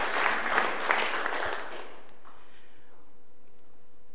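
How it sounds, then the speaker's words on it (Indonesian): A church congregation bursts into applause, a dense wash of clapping for about a second and a half that then fades quickly into the quiet of the room. "Berikan tepuk tangan buat Tuhan kita."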